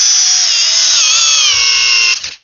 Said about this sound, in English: The Metabo HPT 18-volt hammer drill.